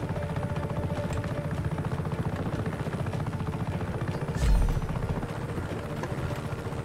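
Helicopter flying in Just Cause 3, a steady rapid rotor chop droning continuously and close, with a brief louder thump midway.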